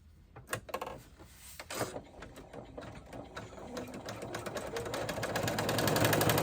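A sewing machine stitches a seam on a flip flop pouch, starting with a few short bursts and then running continuously, building louder and faster near the end.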